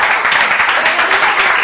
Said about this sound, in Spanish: Quiero que les den un gran aplauso.